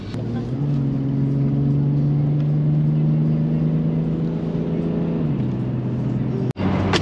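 A four-wheel-drive camper vehicle cruises onto the motorway with a steady, loud engine drone and a sustained tonal hum that drops slightly in pitch near the end, followed by a brief sharp knock.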